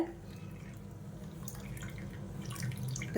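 Water poured over semolina in a bowl to soak while making sweet appam, a soft continuous splashing pour that builds slightly toward the end, close and moderately quiet.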